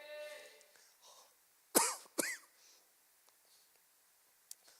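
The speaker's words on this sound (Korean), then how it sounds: "제가 기침을 하는 이유는 이게 위산이 위로 올라와서" A man coughs twice in quick succession, sharp and close, during a Sunday morning church sermon, with faint speech before and quiet room sound after.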